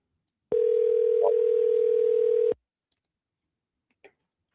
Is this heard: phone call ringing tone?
yes